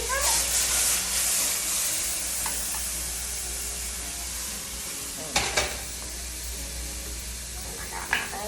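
Butter sizzling very hot in a pan with diced carrots and tomatoes, a bright continuous hiss with a few sharp utensil clinks and scrapes, close up.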